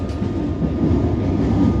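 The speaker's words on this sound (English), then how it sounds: "There's some more trains." Trains rumble past near Arden Station in Melbourne with a steady low roar and faint rail noise, continuous throughout, no voices.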